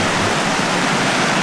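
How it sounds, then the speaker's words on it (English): A small waterfall, roughly a two-foot ledge drop on Bayou Kisatchie in a Louisiana forest, pours with a loud, continuous rushing roar and no voices. "This is the waterfalls of Louisiana. On Bayou Kisatchie."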